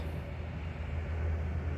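Southbound CN oil freight train led by ET44AC, SD70M-2 and ES44DC locomotives approaching, a steady low diesel rumble and rail noise, continuous and moderately distant.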